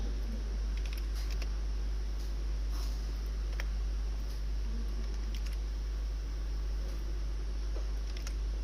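Scattered computer keyboard keystrokes while code is typed, faint, irregular clicks over a steady low electrical hum.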